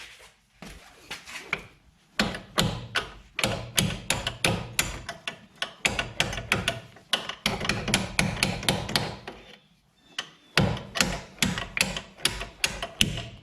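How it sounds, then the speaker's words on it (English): A hammer taps a strut bolt into place on a Nissan Altima front suspension, a long series of quick metallic strikes in bursts, loud and close, with a couple of brief pauses. "Give it a few taps with a hammer."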